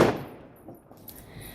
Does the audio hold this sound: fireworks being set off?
yes